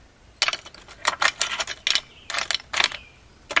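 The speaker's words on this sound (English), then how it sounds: "A bunch of rusty old bolts" Rusty old bolts from a 1972 Datsun 240Z being handled, giving a string of sharp metallic clinks and rattles in uneven bursts, close and fairly loud with no talking.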